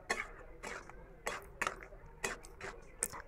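A spoon scraping and knocking against a pan as poppy-seed paste is stirred into boiled potatoes, several evenly spaced clattering strokes at close range over a quiet background.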